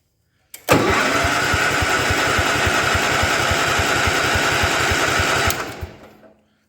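A 1972 John Deere 110 lawn tractor that sat for years in a barn cranks over with its starter, a loud, steady rapid chugging that runs about five seconds, then stops and fades out without catching.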